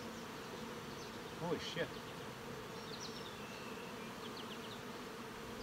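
Honey bees covering the frames of an open hive box give off a steady, even buzz, with a voice exclaiming briefly over it.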